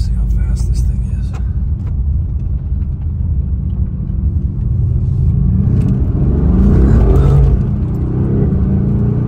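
Inside an expensive Mercedes car as it accelerates: a steady, heavy low engine and road rumble that swells and rises in pitch near the end of the run.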